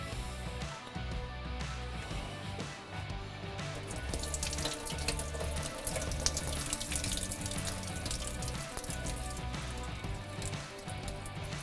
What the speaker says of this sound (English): We're gonna drain the water off of them, and we'll put the onions back in the dish.